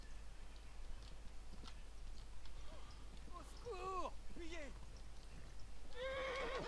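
A horse neighs in the medieval video game Kingdom Come: Deliverance, giving several quavering whinnies over a steady low hum and faint hoof and tack noise, with a final louder whinny near the end.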